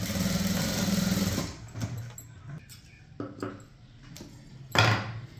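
A sewing machine runs steadily while stitching a blouse shoulder seam in a tailoring session, then stops and restarts in several short bursts, close and fairly loud.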